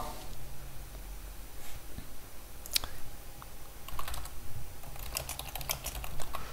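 Typing on a computer keyboard running Calculate Linux Desktop 17 Cinnamon, quiet scattered keystrokes in short bursts with a faster cluster near the end, close by and without talk.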